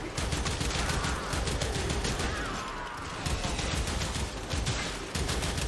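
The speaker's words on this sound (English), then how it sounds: "which is a flamethrower, fire-based weapon" In the Warframe video game, the Ignis Wraith flamethrower fires in a loud, continuous stream of dense rapid crackling and roaring, broken by a couple of brief gaps.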